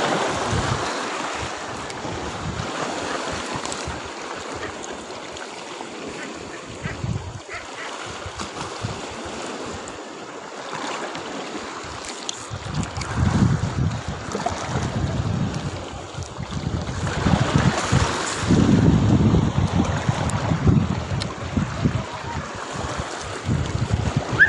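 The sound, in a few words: rough sea waves at a rocky shore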